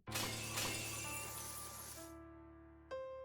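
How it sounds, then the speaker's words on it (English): Chains shatter as a sound effect in an anime fight scene: a loud, bright burst of breaking metal that rings on and fades, then a second sharp clink near the end. "The chains are broken."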